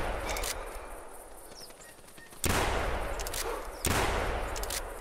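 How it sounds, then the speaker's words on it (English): Two loud, sharp 10 gauge shotgun blasts fired at geese in the hunting game theHunter Classic, spaced about a second and a half apart, over a steady outdoor ambience with faint honking fowl. "So we're going to pull out our 10 gauge, we'll pop up, and see if we can't take some shots."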